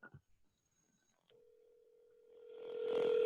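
A telephone ringing through a speakerphone held near a computer microphone, a single steady tone that swells louder toward the end after some faint handling noise.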